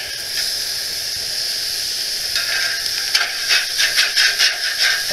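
Food searing in a hot pan gives a loud, close hiss and sizzle that builds into pulsing bursts of spatter toward the end, with no one speaking.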